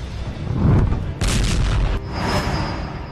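Russian artillery fire near Bakhmut, a few heavy booms and blasts in quick succession, muffled and rumbling, with a sharper crack in the middle.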